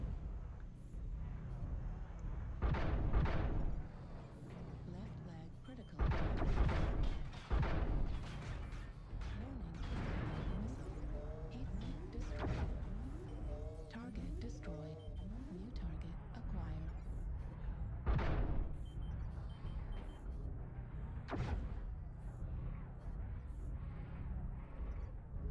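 Artillery strike explosions from the game MechWarrior Online land as several heavy booming bursts amid steady mech combat noise, with a player talking over much of it.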